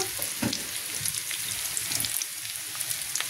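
Food sizzles and crackles in a frying pan on a home stove, a close, quiet, steady frying hiss with small pops and a brief stirring scrape.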